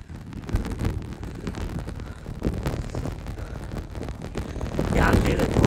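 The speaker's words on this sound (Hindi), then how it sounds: "हवा चल रहा है, हवा चलने से थोड़ा सही फील हो रहा है" Wind buffets the microphone outdoors near the Vishwa Shanti Stupa in Rajgir, a continuous rough rumbling gust that swells louder toward the end, with no one speaking.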